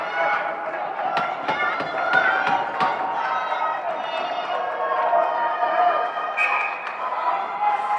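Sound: excited crowd at a hockey game

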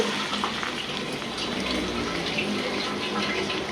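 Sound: pouring a little water into pan

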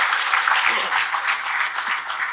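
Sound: audience applause

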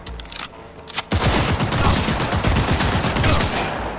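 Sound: auto pistol gunfire in video game Cyberpunk 2077

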